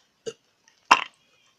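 Two burps, a short one followed a moment later by a louder, longer and rougher one, both close and alone in silence.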